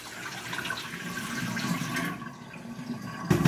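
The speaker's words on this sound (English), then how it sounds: "And I just give it a good rinse." Tap water runs steadily into a sink while freshly Kool-Aid-dyed orange wool roving is rinsed, a continuous close splashing rush that dips briefly near the end before a louder gush.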